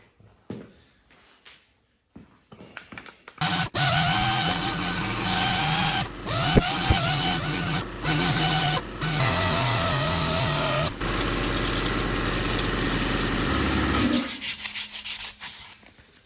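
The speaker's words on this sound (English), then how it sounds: "I'm just using my Rhino grip, red line sanding disc pads" A power sander with a soft 500-grit sanding disc pad whirs steadily against a surface, its pitch shifting slightly as pressure changes, then it spins down.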